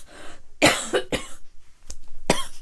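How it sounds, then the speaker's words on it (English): A fit of several harsh coughs in quick bursts, close and loud, with short pauses and a throat clear between them. "Sorry about that coughing fit."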